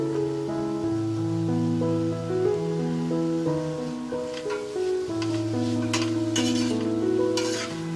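Finely chopped taro and amaranth leaves are stir-fried in a pan, with soft sizzling and a few sharper stirring scrapes near the end, all under prominent background music.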